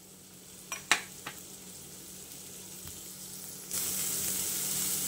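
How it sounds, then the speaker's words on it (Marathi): Chopped onion hits a spoonful of hot oil in a pan and breaks into a loud, steady sizzle, preceded by a few sharp kitchen clicks and clinks. "कांदा छान परतून घेऊया."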